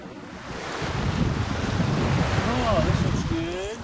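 Surf and wind noise at Seaplane Lagoon on the old Alameda naval base, a steady broadband wash with gusting buffeting, joined near the end by faint whistling tonal sweeps.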